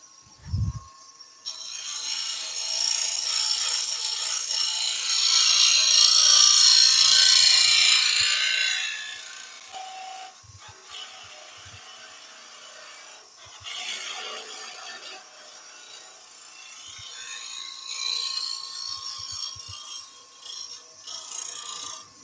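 Skew chisel scraping a timber toadstool nutcracker on a wood lathe, a steady hissing rasp that swells to a loud stretch midway, then eases and returns more faintly in uneven passes.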